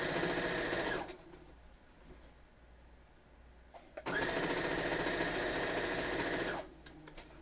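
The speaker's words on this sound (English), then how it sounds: "So, all I'm doing is sewing all the way down." A sewing machine stitching down a quilt binding runs in two steady, close bursts of rapid mechanical whirring, separated by a few seconds of quiet with faint handling noises.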